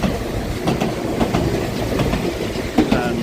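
An Enoden train, a small four-car sightseeing line squeezing through tight spaces near Fujisawa and Enoshima in Japan, rumbles past close by with steady wheel clatter, rhythmic clacks over rail joints and a faint squeal near the end.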